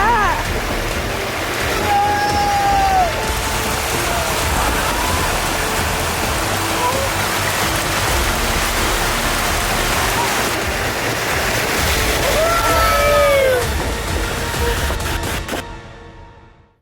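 Heavy rain pours steadily on a drive through Ratchaburi, Thailand, during a day of flooding, forming a loud continuous wash throughout, with a few rising tonal whines passing near the start and again toward the end before it cuts off.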